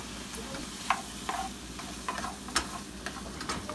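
Hearts of palm cooking in a pan on the stove, a steady soft sizzle with a few sharp scrapes and clinks of a utensil stirring at irregular intervals, fairly faint and without talk.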